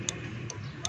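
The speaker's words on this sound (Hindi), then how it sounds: "ये टिक टिक की आवाज़ आ रही है" Automotive relay in a Suzuki Mehran headlight circuit clicking with a faulty relay, three sharp ticks at an even, steady rhythm, close and fairly quiet.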